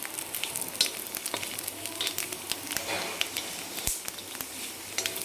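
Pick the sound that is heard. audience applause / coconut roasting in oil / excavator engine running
coconut roasting in oil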